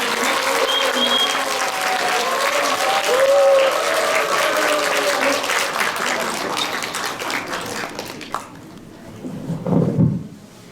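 Audience applause at an English Jataka storytelling recitation contest, a dense sustained clapping from a hall crowd that fades out near the end, followed by a brief low rumble.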